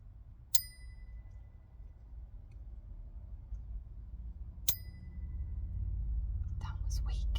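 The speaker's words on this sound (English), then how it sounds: "I'm going to cleanse the space with 3 bell rings" A small ritual bell is struck to cleanse a room, giving two clear ringing strikes several seconds apart, each with a lingering bright tone, over a low background hum and faint whispering.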